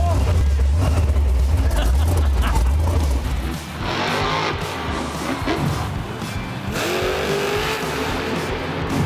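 A monster truck engine at a live event starts up and revs loudly, a heavy low rumble filling the first seconds before dropping back, then rising again in surging bursts with voices talking over it.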